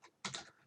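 A short, quiet burst of computer keyboard typing, a few quick key presses clustered together after a single faint tap.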